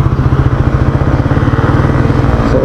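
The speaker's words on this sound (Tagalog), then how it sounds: "Gamit na naman po ulit ang ating motor." A motorcycle engine drones steadily and loudly while riding, with a rapid, even pulsing rumble throughout and no talking.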